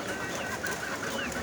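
Chickens and roosters at a small backyard farm make faint clucks and calls over a steady, noisy outdoor background that runs throughout.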